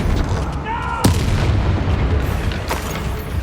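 A Confringo spell blast in the video game Hogwarts Legacy during a battle: a sharp booming burst followed by a rumbling, crackling tail, with another thud a moment later over dense combat noise.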